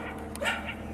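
One short dog bark, moderately close, rises over a steady background hum in a brief moment.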